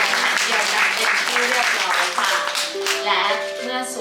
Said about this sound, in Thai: ขอเสียงปรบมือให้ทั้งสองครอบครัว